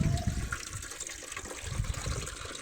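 Water running from a tap fed by a rooftop tank into a container, a steady, close gushing and splashing fill that continues throughout without voices.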